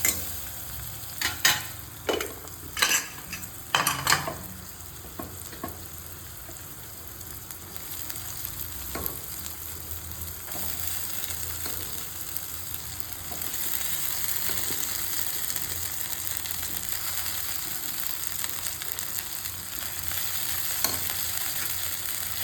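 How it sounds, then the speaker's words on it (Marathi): Ghugrya, sprouted legumes, stir-fried in a pan: a low continuous sizzle, with sharp scraping and stirring knocks close by early on that then settle into an even frying hiss. "या घुगऱ्या चांगल्या परतून घ्यायच्या."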